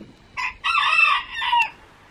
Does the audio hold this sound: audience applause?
no